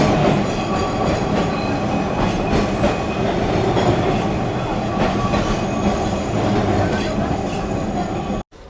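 A Kolkata tram running on its rails between Shyambazar and Esplanade, a dense loud rolling rumble with metallic wheel squeal and clatter, continuous and close until an abrupt cut at the end.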